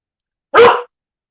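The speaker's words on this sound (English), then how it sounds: "someone goes by our door, she barks." A pet dog lets out a single sharp, loud bark close by, reacting to someone passing the door, alone against silence.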